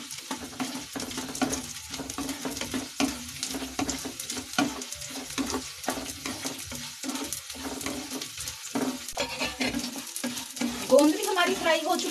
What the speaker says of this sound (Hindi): अब मैं इसमें ये गोंद डाल दूंगी और इसे भून लूंगी गोंद को मैं।